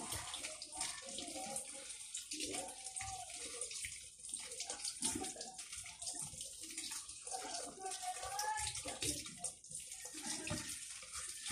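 Tap water runs steadily while fish are rinsed and cleaned in a sink, a continuous splashing wash with small clatters of handling throughout, fairly close.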